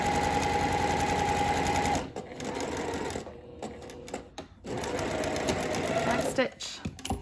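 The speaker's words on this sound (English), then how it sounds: "I'm going to back stitch here because that's a high stress point" A sewing machine runs in quick steady bursts while back stitching at a high-stress point of a French seam on a side-seam pocket, pausing and restarting, loud and close.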